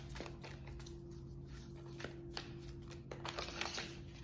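A Moonology oracle card deck being shuffled by hand, giving quiet, close, papery riffling and soft flicks over several seconds, with no talking.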